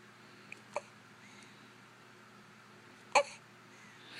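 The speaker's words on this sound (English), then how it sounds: "Got the hiccups?" A newborn baby hiccups twice, short sharp catches spaced a couple of seconds apart in a quiet room.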